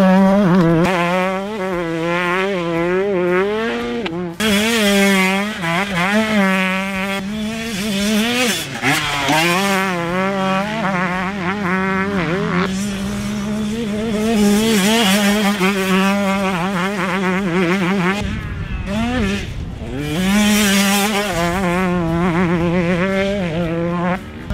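A 2024 KTM 125SX two-stroke motocross bike rides continuously, its high-pitched engine revving up and down in rapid wavering sweeps as it accelerates and shifts, loud and fairly close throughout.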